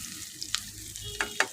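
Mustard seeds, fenugreek, shallots and curry leaves sizzle in hot oil for a brinjal kulambu, a steady fry punctuated by a few sharp pops and crackles close by.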